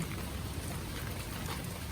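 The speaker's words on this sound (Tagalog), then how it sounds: "Pagka tumuloy-tuloy pa rin yung ulan." Steady rain falling in a rural garden setting, a dense, even hiss of drops at moderate distance, continuous and without talk.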